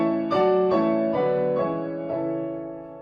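Big piano chords play the theme of Rachmaninoff's Chopin Variations, five struck chords in a slow, descending sequence, each ringing out and fading under the next, with no talk.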